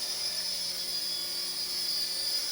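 A small RC military helicopter whines steadily in auto takeoff, its high-pitched rotor and motor tone constant and close with no speech.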